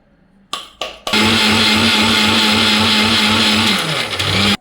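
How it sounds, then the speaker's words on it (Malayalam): A kitchen mixer grinder blends sugar with cardamom and spices, starting with two short pulses, then running in a loud, steady whir that shifts slightly in pitch before cutting off. "മിക്സിയിൽ ആ പഞ്ചസാര ഞാൻ ഒരു ഗ്ലാസ് വെച്ചിരുന്ന് പഞ്ചസാര ഇതിലിട്ടു ഇത് രണ്ടും കൂടി ആദ്യം അടിക്കും കേട്ടോ"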